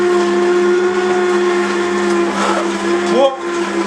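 An electric juicer runs while pressing green vegetables into juice, giving a loud, steady motor whine with a hissing, grinding edge and a brief shift in pitch near the end.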